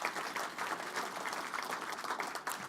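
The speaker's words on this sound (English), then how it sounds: "Yes, I think that is definitely worth an applause." Applause from a convention audience at an Alberta political speech, a steady wash of many hands clapping at moderate level throughout, with no voices over it.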